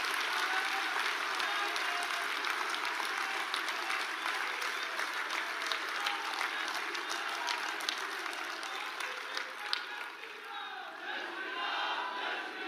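Sustained, dense applause from a large crowd at a national political party convention welcoming the Prime Minister, steady and loud throughout with a slight dip near the end.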